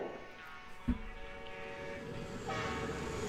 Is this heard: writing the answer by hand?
no